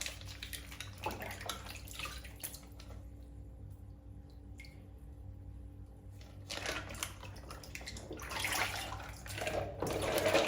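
Running water trickles and splashes faintly as something is rinsed in a basin, with irregular drips and soft bursts of flow, heard close and without speech.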